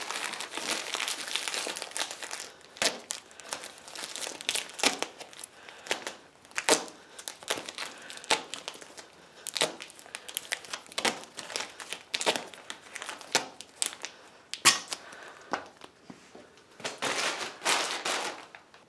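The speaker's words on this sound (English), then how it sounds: "I'm going to go ahead and tape that handle." Tape being pulled and wrapped around the metal handle of a plasterer's drywall hopper, a steady run of close crinkling, crackling and tearing sounds with sharp snaps and no talking.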